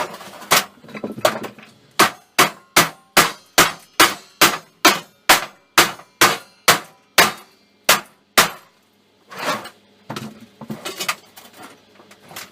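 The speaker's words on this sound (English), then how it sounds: "If in doubt, hit it with an hammer." Scrap metal being struck with a hammer while salvaging an electric motor in a shed, a fast regular series of about twenty loud, sharp close blows, then a few irregular knocks and clattering.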